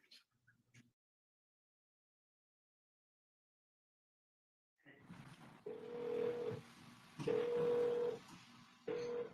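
A telephone keypad dials a phone number on a prepaid inmate call line, with short tone beeps in an irregular sequence after a stretch of silence, heard over a faint background hiss.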